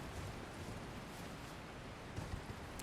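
A giant waterfall in Elden Ring: Shadow of the Erdtree, a dense, unbroken roar of rushing water heard steadily without any speech.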